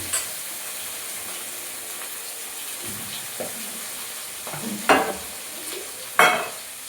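Hilsa fish pieces, head first, fry in a pan with cumin, giving a soft steady sizzle that swells into louder spitting bursts near the end, close and without voices.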